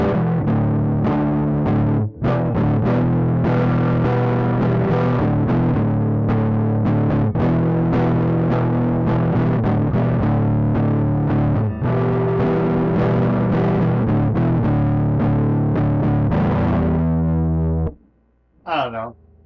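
Electric guitar through a humbucker pickup on a small homemade mini Strat, played with heavy distortion: dense, sustained chords and riffs, loud and close, ending with a brief pause and a few picked notes.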